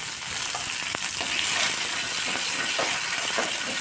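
Steady loud sizzling of leaves frying in hot oil, a continuous crackling hiss close up with no voices.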